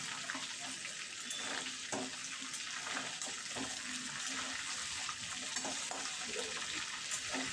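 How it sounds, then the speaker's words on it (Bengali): Chicken fries in a pan for biryani, a constant close sizzle and crackle at a moderate, even level with no voices over it. "চিকেন ভাজানো হয়ে গেছে"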